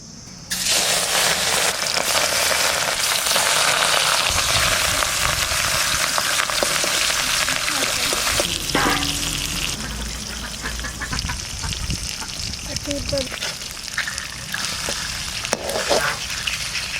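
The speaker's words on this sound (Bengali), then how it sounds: "গরম হয়ে গেছে এবার মাছ দিয়ে দেবো" Rohu fish, the head included, sizzles loudly in hot oil in a Bengali home kitchen. A dense, steady crackle runs throughout, easing somewhat partway through as a few scattered pops and knocks join in.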